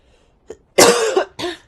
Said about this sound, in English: Excuse me. I do have a cough,